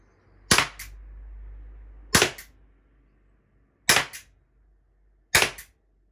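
Umarex Glock 17 Gen5 T4E .43 pistol firing steel balls, four loud sharp cracks spaced about a second and a half apart, each with a quick double snap, close and clear.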